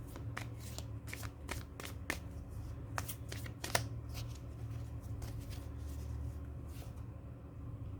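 Earth Magic oracle cards are shuffled by hand, a close run of quick, crisp riffling slaps in irregular bursts over a quiet room hum.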